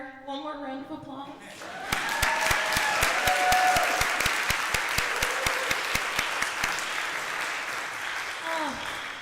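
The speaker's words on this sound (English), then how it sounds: "One more round of applause." Congregation applause at a Sunday religious society service, starting after a brief spoken line and then swelling into strong rhythmic clapping in near-unison beats that gradually fades, with a voice returning at the end.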